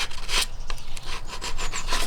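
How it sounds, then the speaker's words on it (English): Primed wood trim is rubbed with 120-grit sandpaper in close, steady rasping strokes, a continuous scratchy friction with rhythmic surges and no talk. "Knocking off all the little burrs"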